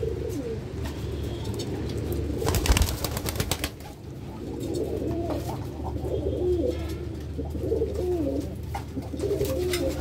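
Pet pigeons kept at home coo in soft, throaty phrases at close range while they feed on grit. A brief rustle of movement sounds partway through.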